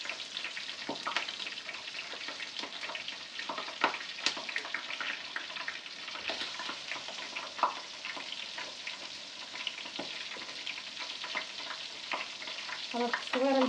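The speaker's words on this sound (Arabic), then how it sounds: "دابا غنقلي الحوت" Fish fries in a pan with a steady, dense sizzle and crackle that continues throughout, close and even, with a few small knocks and no talking.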